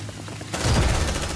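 Turret gunfire in the video game Aliens: Dark Descent: after a low rumbling lead-in, a sudden loud, sustained rapid-fire burst kicks in and continues steadily to the end.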